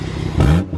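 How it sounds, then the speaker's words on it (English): A built 13B rotary race engine gives a short, loud exhaust rev, a brief rising blip that swells and drops away within under a second. "Sir, your exhaust is too loud."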